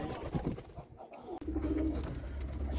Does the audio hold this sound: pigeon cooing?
yes